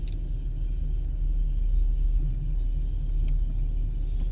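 Steady low interior road rumble fills a moving car's cabin, droning evenly with no voices and faint occasional higher ticks.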